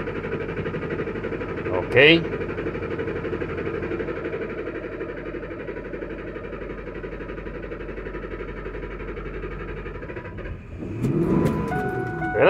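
A Ford F-150 with a misfire fault cranking over, a long, steady mechanical churn close by that ends as the engine catches, with a brief spoken word near the start.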